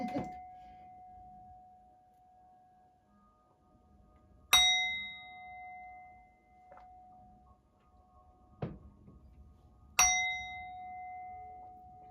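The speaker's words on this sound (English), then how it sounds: "I'm going to ring the bell here, the bowl." A singing bowl bell is struck three times, each bright metallic strike ringing out and fading slowly, with a steady low hum and a few soft knocks between strikes.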